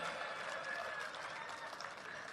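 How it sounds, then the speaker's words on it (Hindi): Audience applause during a speech, a faint, steady, distant-sounding spread of clapping hands continuing evenly for a couple of seconds. "तालियां तो बजनी चाहिए भाई"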